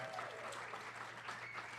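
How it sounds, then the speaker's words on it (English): A cinema audience at the American Cinematheque's Los Feliz 3 breaks into applause, a dense, even clatter of many hands clapping together, moderately loud and sustained. "This is where you applaud."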